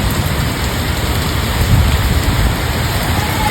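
Very heavy rain pours down in a dense, steady, loud roar of drops, with falling coconut palm fronds and coconuts around.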